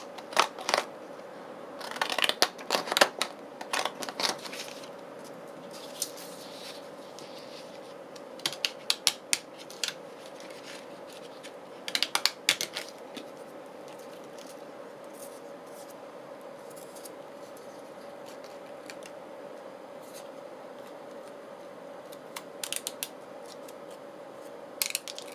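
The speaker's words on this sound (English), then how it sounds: "I'm just going to cut it out with my fancy scissors" Fancy decorative scissors snip through paper in short clustered bursts of crisp cuts, close up, with quiet pauses between groups of snips over a faint steady hum; no talk.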